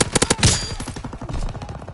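Fast submachine-gun fire in the World War II shooter Call of Duty WWII, a loud, close burst of rapid shots with a sharp crack near the start, played alone without talk.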